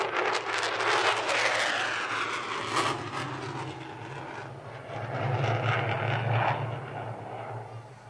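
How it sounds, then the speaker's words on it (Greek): An F-16 fighter jet roars past low and fast at an air show, a loud broad engine rush that swells, fades slightly midway, then surges again before tapering off, with no voices over it. "θα επιδείξει την ικανότητα του F-16 να πετάει σε πολύ χαμηλό ύψος και με μεγάλη ταχύτητα"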